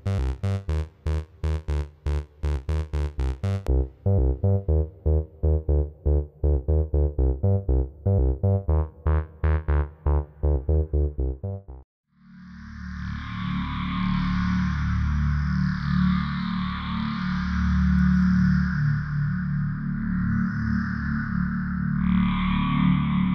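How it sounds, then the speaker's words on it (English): Vult BoomStick low-pass filter synth module demonstrated alone: a pulsing, rhythmic sequence of buzzy filtered notes for about twelve seconds, then after a short gap a sustained, dense, distorted drone that swells and shifts in tone. "Here's some examples of what the Boomstick can sound like."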